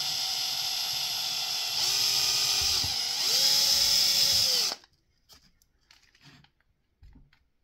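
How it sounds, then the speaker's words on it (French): Power drill boring a hole in a part for a portable multiband HF vertical antenna, a steady close whine for under five seconds with pitch shifts as the bit bites, then stopping into quiet with a few faint handling clicks. "Je redémonte le tout et je perce."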